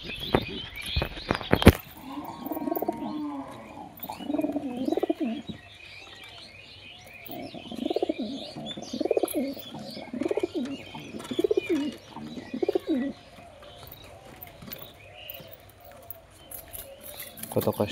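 Local domestic pigeons coo repeatedly while feeding, a steady series of soft, throaty rolling calls close by, with a person talking intermittently over them.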